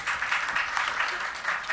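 Loud, steady applause from an audience for young children of the Avadhpuri pathshala at a religious gathering, continuous clapping filling the whole stretch.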